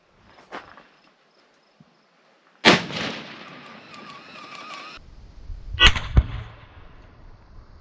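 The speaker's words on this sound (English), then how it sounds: "I hate to do this, but I'm going to shoot another one." A 7mm Remington Magnum rifle firing factory ammunition: one sharp loud report with a ringing decay, a soft click and some handling noise, then a second blast-like thump near the end.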